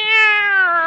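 A single clear, close cat meow, one drawn-out tonal call under a second long with no voices around it.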